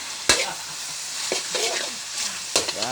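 Meat, garlic and onion sauté in a pan for pansit gisado, sizzling steadily close up. Three or four sharp scrapes and clanks of stirring cut through the frying.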